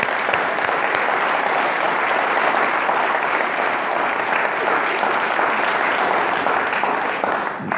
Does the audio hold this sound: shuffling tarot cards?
no